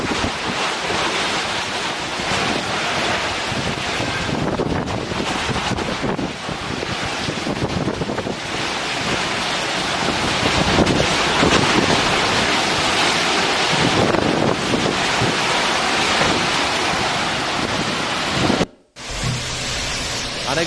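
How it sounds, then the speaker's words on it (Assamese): Strong cyclone winds and crashing sea waves during Cyclone Tauktae in Mumbai, a loud continuous roar of surf and gusting wind buffeting the microphone, with a brief dropout near the end and no voices. "150 কিলোমিটাৰ বেগত বতাহ বলাৰ লগতে যথেষ্ট বৃষ্টিপাত হৈছে সাগৰৰ জলস্তৰ বৃদ্ধি পাইছে"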